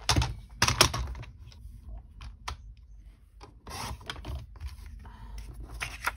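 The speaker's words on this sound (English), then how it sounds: "Now I'm going to have to cut this down so I can get 2." Scissors or a trimmer cutting card paper for snowflake thank you cards, with close, quiet scraping and rubbing strokes and soft taps in short, irregular bursts.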